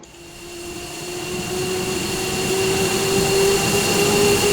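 F-15C jet engines spooling up during start in the DCS flight simulator, a steady whine and rumble that rises gradually in loudness over a few seconds, heard alone.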